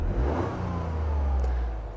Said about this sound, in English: The first is the exhaust note. It's rubbish, utterly rubbish.